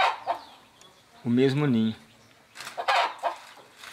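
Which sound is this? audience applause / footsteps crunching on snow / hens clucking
hens clucking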